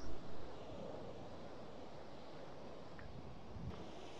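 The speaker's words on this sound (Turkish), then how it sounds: "O deniz felaket kabarmış. Dalgalar bu kadar değildi biraz önce." Wind and waves on a rough sea at a campsite in Fethiye, a faint steady rush of surf and wind buffeting the microphone, with no voices.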